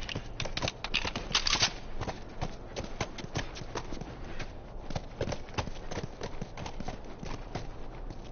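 Horse hooves clip-clopping at a steady walking pace, close and fairly quiet, with sharp regular knocks throughout and no talking.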